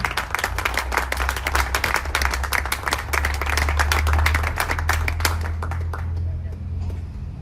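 Audience applause breaks out for a volunteer honoured at a de-addiction awards ceremony during a Tiranga march in Jai Vihar, Najafgarh: dense, steady clapping from a crowd with a low hum beneath, thinning out toward the end.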